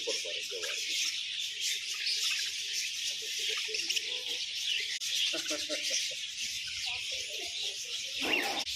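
Many birds chirp and call in a large aviary at the Rajali bird park, a constant bright twittering wash heard under a person talking nearby.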